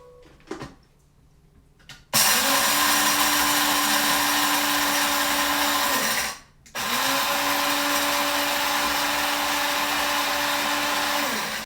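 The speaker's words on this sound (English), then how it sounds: "All right, let's grind it up." Java Junkies Crowded Barrel coffee beans ground in an electric coffee grinder: two loud, steady whirring bursts, the first about four seconds, then a brief pause before a second run of similar length.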